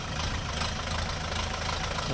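A Toyota GD504 compact four-wheel-drive 50-horsepower tractor engine idles steadily at close range, a constant low chugging rumble with no pauses or changes in speed.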